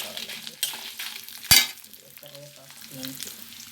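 Dried red chillies, ten or twelve of them, crackle faintly in a pan, with a sharp metallic clank as they are stirred and a few soft scrapes afterward.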